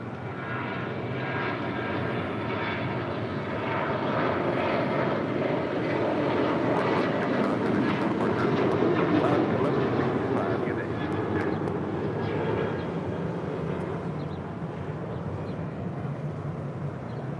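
Alaska Airlines Boeing 737-900ER departing LAX, a sustained broadband jet roar that swells gently toward the middle and holds steady, with a person talking faintly underneath.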